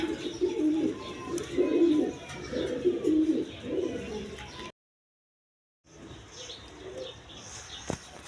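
Garara pigeons coo loudly and repeatedly in a dense, overlapping chorus, close by and with no talk, then a short gap before quieter cooing resumes.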